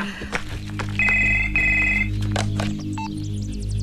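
An old-style telephone bell rings in a Malayalam comedy scene, two clear trilling bursts close by with a faint background hum and a short beep after them.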